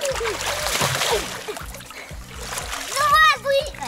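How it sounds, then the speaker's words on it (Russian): Water splashing in a garden paddling pool at a summer house as a child plays, with bursts of splatter and sloshing, while people talk excitedly and a voice rises over it. "Давай, брызгай!"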